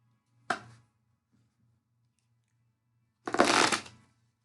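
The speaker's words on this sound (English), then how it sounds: "I'm not the best at shuffling." Two short bursts of tarot cards being riffled and shuffled, the second longer and louder, with near silence between them.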